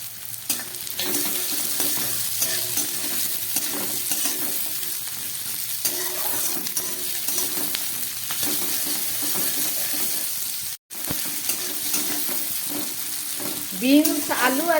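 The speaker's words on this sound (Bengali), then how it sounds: "বিনস, আলু আর পেঁয়াজটা ভাজা হয়ে গেছে, অনেকটাই ভাজা হয়েছে" Thin-cut potatoes, beans, onion and capsicum sizzle in hot oil, a continuous close crackle broken by occasional stirring scrapes and a short gap, with faint kitchen sounds near the end.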